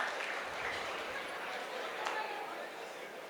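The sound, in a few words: boys in the audience clapping loudly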